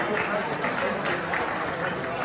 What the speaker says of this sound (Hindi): उनका तालियों से जोरदार स्वागत करिए।